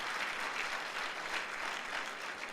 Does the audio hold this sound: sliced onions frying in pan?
no